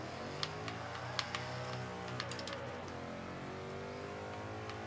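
A 2005 Ford GT accelerates hard in Forza 5, its engine note droning and climbing steadily through the revs with a few sharp ticks and clicks over the top, close and continuous.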